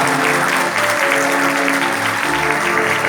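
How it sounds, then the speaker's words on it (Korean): Wedding guests give loud, dense applause that fills the hall right after the bride and groom bow to each other, with sustained music playing underneath. "여러분 뜨거운 박수 부탁드립니다."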